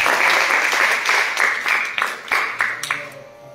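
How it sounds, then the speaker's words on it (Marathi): An audience at a live concert breaks into loud, dense applause that runs strongly for a few seconds, then thins into scattered claps and fades out. "एकदा नाशिकसाठी टाळ्या वाजवा."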